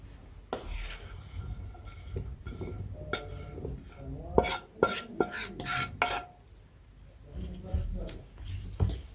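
A spoon stirs chickpea and corn salad in a bowl, with soft scrapes and sharp clinks against the dish, intermittent and close, while a person talks in between.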